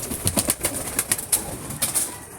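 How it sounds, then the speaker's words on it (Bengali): A released pigeon beats its wings in a quick series of flaps as it takes off and climbs, the wingbeats close and crisp over faint outdoor background. "এখন সবে পায়রা ছেড়েছে, উড়ে গেছে ওপরে"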